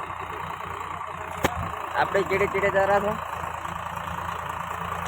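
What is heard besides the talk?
tractor engine running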